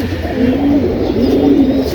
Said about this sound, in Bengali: এখানে বেশ কিছু কবুতর আছে